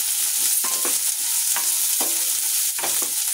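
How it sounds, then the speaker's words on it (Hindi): Chopped onion, green chilli, garlic and ginger frying in a pan, a loud continuous sizzle broken by repeated scraping stirs of the spoon, no voices. "लहसुन अदरक डाल दिया, इसको ब्राउन होने तक भूनेंगे।"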